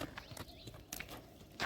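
A horse's hooves clip-clop along a village path, faint scattered knocks in an irregular walking rhythm, heard at a distance and fairly quiet.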